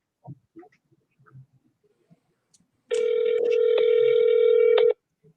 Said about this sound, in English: I'm going to call it and see what happens.